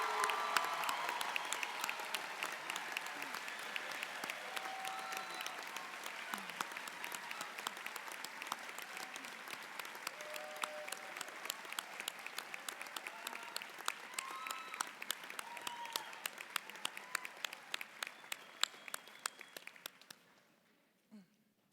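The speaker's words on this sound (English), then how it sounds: "Let's give all of our graduates a very warm round of applause." A college commencement audience gives graduates sustained, dense applause lasting about twenty seconds before it abruptly dies away, with a few faint voices in the crowd.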